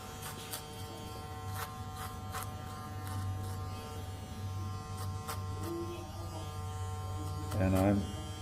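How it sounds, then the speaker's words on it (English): Electric hair clippers cutting hair during a barbershop haircut, a steady buzzing hum with intermittent clicks and a brief louder burst near the end as the blade meets the hair. "Sometimes you can lift the hair up with a comb and then use your clipper."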